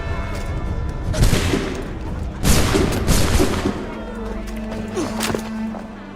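Musket volleys in the Assassin's Creed 3 game, a ragged burst of overlapping gunshots with booming echoes, then scattered single shots as the noise tails off.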